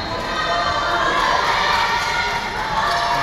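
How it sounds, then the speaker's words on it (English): Basketball crowd cheering and shouting steadily in a gym during the closing minute of a close men's college game, HLGU versus Central Christian, a dense, continuous roar of voices close by. "The crowd getting into it for the end of the game."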